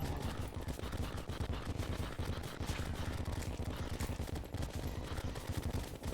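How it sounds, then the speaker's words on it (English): Rapid, continuous gunfire with exploding bullets in the Terraria video game, a dense stream of close, loud shots and bursts with no pause for several seconds. "these exploding bullets are going to do"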